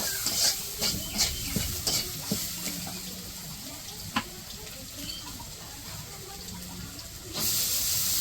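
Vegetables and pumpkin frying in a pan with turmeric, chili powder and salt in a village kitchen, a steady sizzle broken by scraping stirs and clinks near the start, then a louder hiss toward the end.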